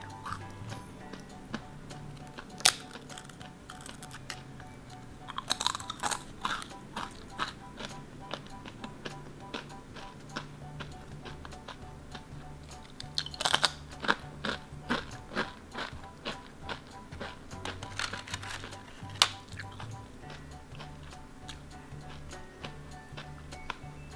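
Crispy Thai fried pork snack is crunched and chewed close up, a long stretch of faint irregular crackling bites and ticking crunches with occasional louder snaps, over a quiet low background.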